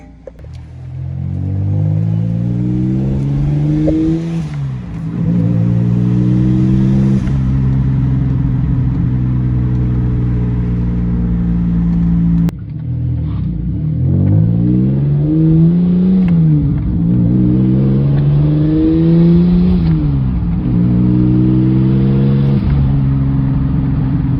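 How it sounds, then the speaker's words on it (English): A turbocharged Toyota Solara engine idles loud and close, then revs up and down several times in long rising and falling sweeps, with a steady rumble between the revs and no voices. "And yeah, yeah, she's running again. So I'm gonna let her warm up a little bit"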